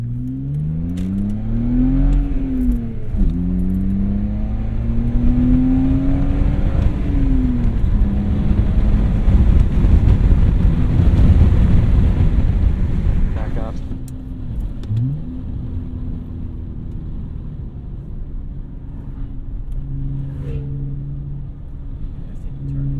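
A 2004 BMW E46 330xi with its muffler deleted roars loudly from inside the cabin, revving up and down through several gear changes before settling into a lower cruising drone; a voice speaks briefly over it.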